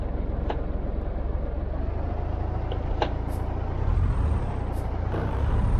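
Euro Truck Simulator 2 truck: a tag axle is lowered with sharp short bursts of released air over a constant low engine rumble, a few hisses spaced across the stretch.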